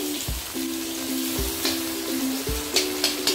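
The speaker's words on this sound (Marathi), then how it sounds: "त्याच तेलामध्ये 1 चमचा जिरे टाकायचे, जिरे भाजल्यानंतर त्यामध्ये आपण बारीक चिरलेला कांदा टाकायचा" Finely chopped onion frying in oil with cumin seeds for a capsicum bhaji, a constant close sizzle broken by three or four spoon scrapes against the pan, with a faint low hum underneath and no speech.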